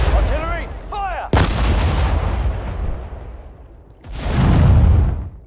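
Artillery fire in the World War II strategy game Sudden Strike 4, heavy booming blasts with a sharp crack and a long rumbling tail, then another deep blast, mixed with brief game voice lines.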